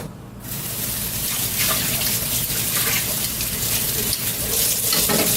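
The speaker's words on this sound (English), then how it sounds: "Just want to rinse off some of this excess." Tap water runs steadily and loudly close by as coated chicken wings are rinsed under it, a continuous splashing rush with no talk.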